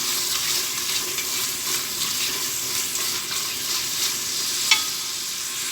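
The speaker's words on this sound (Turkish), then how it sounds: "Şimdi güzelce kavuracağım." Food sautéed in a pan, a steady close hiss of frying with soft stirring sounds and one brief sharp clink, without any talk.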